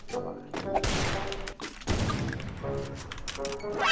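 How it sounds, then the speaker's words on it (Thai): Sniper rifle shots in a video game ring out as several sharp, loud bursts among other impacts, with excited talk from players over and between them. "กดท่ายิงสไนด์อ่ะบอย"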